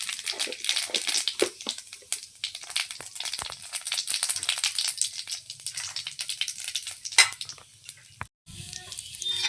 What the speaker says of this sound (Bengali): এদিকে তেল গরম হয়ে গেছে এবার রান্না করবো কচুলতি তার জন্য দিয়ে দেবো জিরে ফোড়ন